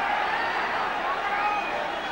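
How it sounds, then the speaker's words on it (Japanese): Loud, steady roar of a boxing arena crowd cheering during a title bout between Guts Ishimatsu and Ken Buchanan, a dense continuous wash of voices with no single speaker standing out. "ものすごい歓声"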